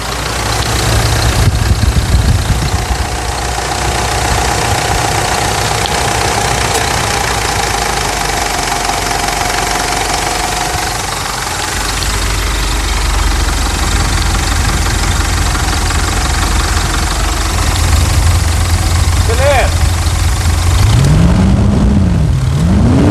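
Mitsubishi Triton pickup engine idling after a decarbonization service, a loud, close, steady diesel-like rumble with a knocking texture that runs throughout, its tone shifting midway and rising briefly near the end.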